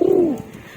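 A racing pigeon gives a single loud, close coo that slides downward and fades within a second, heard on its own.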